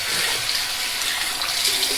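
Water running steadily from a tap while a DOC safety razor head is rinsed at the sink, a loud, continuous splashing gush close by with no speech.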